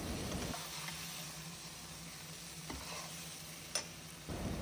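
Fish stirred into a Malvani curry gravy in a pot, with a soft, continuous sizzle and scraping stir and one sharp clink of the utensil against the pan, quiet and close.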